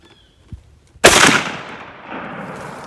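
A 12 gauge shotgun fires a single high velocity buckshot round outdoors at a range, one sharp, loud blast followed by a long, fading rumble of echo after a few faint clicks beforehand.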